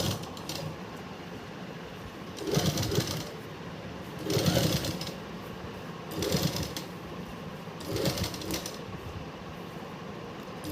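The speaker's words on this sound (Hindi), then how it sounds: "इसको पूरे को स्टिच कर लो यहाँ से ऐसे।" A sewing machine stitches the front neck of a kurti, whirring in four short bursts of a few seconds each, separated by quiet pauses.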